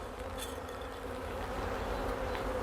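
Honey bees hum in a continuous, close buzzing drone over a hive brood frame during a varroa alcohol-wash check, with no voices over it.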